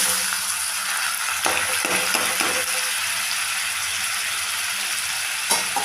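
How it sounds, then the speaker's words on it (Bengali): Whole cumin seeds sizzle steadily in hot oil alongside dried red chillies and bay leaves, a dense close crackling hiss with a few brief louder pops, no voices. "দিলাম গোটা জিরে ফোড়ন ফোড়নটাকে একটু হতে দেব"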